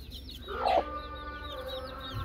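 Newly hatched Bangkok chicks give faint, rapid, high peeps in a repeating pattern. One louder, fuller chicken call stands out near the start against a low background hum.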